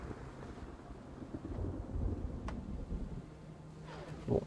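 Rain and low, rumbling thunder in the Infection Free Zone video game on Belle-Ile-en-Mer, a faint, continuous storm wash with a few brief sharper sounds.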